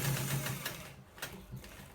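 A sewing machine stitching the back of an open shirt, a short whirring run that fades and stops, with a few clicks after, at moderate volume and no talk.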